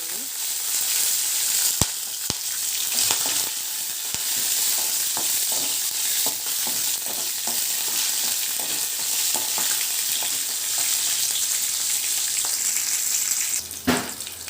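Dry red and green chillies fry in hot oil in a pan for pulihora made with Bombay rava, giving a loud continuous close sizzle with scattered stirring clicks and a sharp burst near the end.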